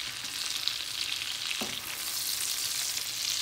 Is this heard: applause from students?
no